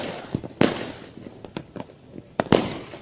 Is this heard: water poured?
no